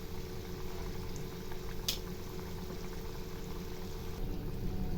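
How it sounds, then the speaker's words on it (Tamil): Kalakala, a crisp sweet snack made with jaggery, frying in hot oil, a steady dense bubbling hiss that holds level throughout with no talk. "இது நல்லா ஃப்ரை ஆகிடுச்சு பாருங்கள்."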